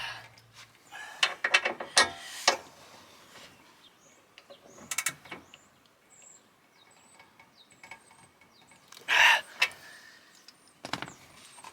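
The seat base in a Renault Trafic van is secured back in place with scattered close ratcheting clicks, clunks and metallic rattles in short bursts, separated by quiet gaps with faint chirping in the background.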